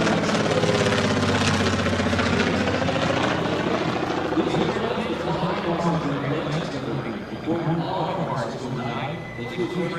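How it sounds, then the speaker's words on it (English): A Beech 18 twin-engine aircraft flies past at an airshow with a steady propeller drone that slowly fades, under an announcer's voice. "Right now, Mike Spalding from the right, the twin Beech."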